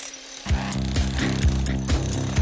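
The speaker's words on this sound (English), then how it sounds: "He created it with a drill, a hammer, and a chisel." Rhythmic mechanical hammering with clanking impacts from a power drill, hammer and chisel cutting into a hard wall, steady and close, beginning after a brief quiet moment.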